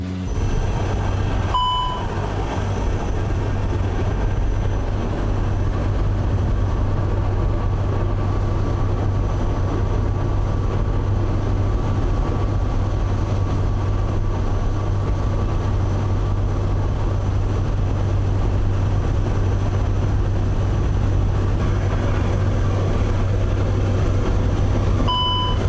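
Inside the cabin of an Airbus A400M military transport aircraft carrying paratroopers in flight over Estonia, a loud, constant low engine drone and roar fills the space, with a brief beep near the start.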